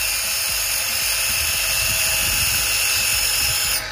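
A Japanese 230 W grinder for sharpening drill bits and knives runs steadily, giving a loud, constant high-pitched whine with a low rattling hum beneath, continuing alone without speech before cutting off at the end.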